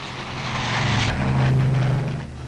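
Propeller cargo planes of the Berlin Airlift, with a loud, droning engine hum swelling as an aircraft passes overhead before easing off.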